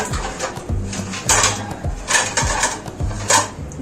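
A bowl of freshly mixed chicken bread dough gets covered, with loud, close clattering knocks and rattles repeating in short bursts as the cover is handled.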